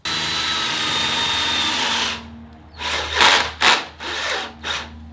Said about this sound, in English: I'll drill a few holes in this one and mount this